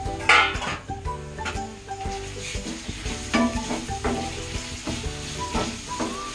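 Chopped onions and whole garlic fry with a steady sizzle in a pan for a chicken stew, with stirring scrapes and clatter of a utensil against the pan.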